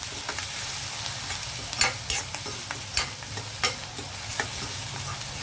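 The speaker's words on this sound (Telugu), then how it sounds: "ఒకసారి కలుపుదాం" Onions with turmeric and salt frying and being stirred in a pan for a chicken potato curry: a steady close sizzle broken by repeated scraping strokes of the spoon, with no talking.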